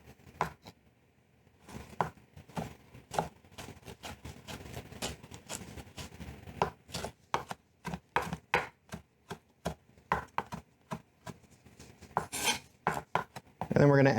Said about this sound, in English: When mincing herbs, I find it very helpful to kind of gather them all up and just form them into a ball.